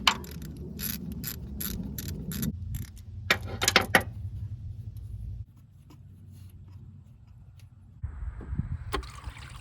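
Small 10 mm accessory mount bolts are removed from the 3.3 L engine of a 2006 Toyota Highlander during a water pump replacement, with bursts of quick, close ratchet clicking, then quieter turning and faint handling noises.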